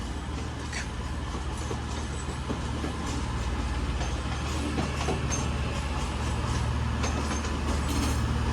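A Class 331 electric train pulls out of Manchester Piccadilly on a grim-weather day, a steady loud rumble of wheels and traction noise with faint clicks and squeals, heard up close on the platform.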